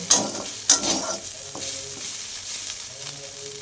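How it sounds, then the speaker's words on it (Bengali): Gime shak greens and potatoes fried over medium heat are stirred in a pan, with a couple of sharp spatula scrapes at the start over a steady close sizzle that settles into gentle frying. "শাক ও আলুটা এবং মাঝে মাঝে এইভাবে নাড়াচাড়া করে নেব"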